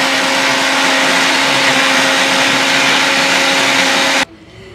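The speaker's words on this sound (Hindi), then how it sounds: "मैं इसको भी अभी ग्राइंड करूँगी" A mixer grinder whirs loudly and steadily as it grinds soaked tamarind with other ingredients and no water, for a home rasam. It stops abruptly near the end, leaving a quiet room.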